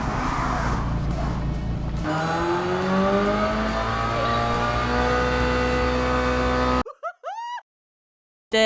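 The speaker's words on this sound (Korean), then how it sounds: "이제는 실내에서 이제 아이들링 테스트를 진행을 할 건데요." A used car's engine idles indoors during an idling test, a steady, loud drone with rising harmonic tones as it revs slightly, ending abruptly followed by a few short chirping sounds.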